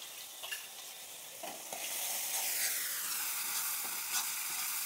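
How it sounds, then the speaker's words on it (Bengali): Ginger paste and green chili paste fry in oil, giving a steady hiss that grows louder and brighter partway through, with a few soft stirring scrapes and no voices. "ভালো করে একটু ভেজে নেব, যতক্ষণ না আদার কাঁচা গন্ধটা চলে যাচ্ছে একটু ভেজে নিচ্ছি।"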